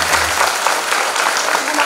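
A school crowd at a madrasah Maulid Nabi gathering bursts into dense, loud applause for a student prize winner, with steady clapping and a voice briefly audible at the start.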